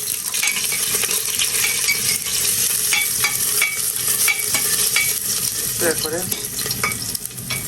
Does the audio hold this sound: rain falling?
no